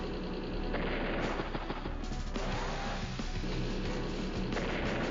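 In the Advance Wars: Days of Ruin video game, a fighter attacks an enemy fighter, producing dense, loud, continuous gunfire and blasting bursts with crashing impacts and no talk.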